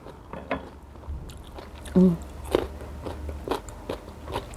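Crunchy mango dipped in salt is bitten and chewed up close: one sharp crunching bite stands out, surrounded by softer, scattered chewing crackles over a low background murmur.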